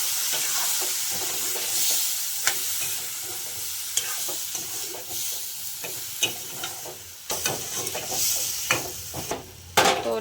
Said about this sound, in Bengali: এখন এর মধ্যে মশলাগুলো দিয়ে দেবো।